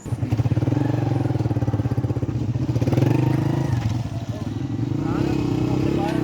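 A motorcycle's engine idles with a steady, close chugging beat in a dirt parking area on the way to a lake. It runs throughout, with a brief dip near the end, while people talk over it.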